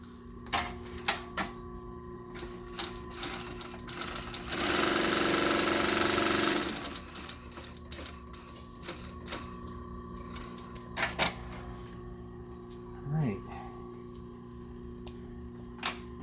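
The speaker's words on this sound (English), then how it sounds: "going to head on over to the lightweight machine right now and sew it." A lightweight sewing machine stitches a leather pouch in one loud burst of about two seconds of rapid mechanical whirring, surrounded by quieter workshop clicks and handling sounds.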